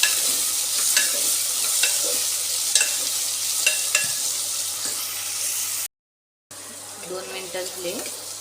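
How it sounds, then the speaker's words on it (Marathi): Bottle gourd sizzling as it is stirred and heated in a pan, with a steady frying hiss and repeated soft scrapes of the spoon, broken by a brief silent gap before the stirring resumes. "आता आपण 2 मिनिटाकरता दुधी भोपळा घालणार आहे, छान गरम करून घेणार आहोत"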